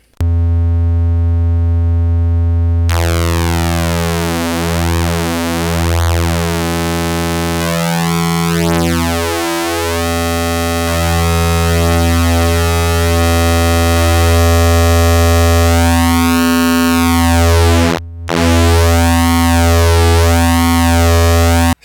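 A Doepfer A-137 comparator-based multiplier in a modular synth turns a steady harmonic tone into sweeping, phasing overtones as its controls are raised, rich buzzy chirps rising and falling for over twenty seconds, loud and continuous with one brief dropout.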